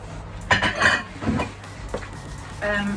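A spoon stirs oats and raisins in a bowl, giving scraping clinks and knocks in uneven bursts, close and moderately loud, with some faint talk in the room.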